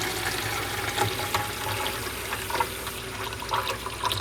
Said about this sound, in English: I'm going to fill this cup up with cold water.